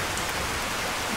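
Steady rain pours in the video game Skyrim VR, a dense, even hiss of falling water with no voices.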